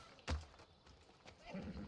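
Horse whinny in the Assassin's Creed video game: one sharp loud burst near the start, followed by quieter game ambience and a faint low voice-like murmur toward the end.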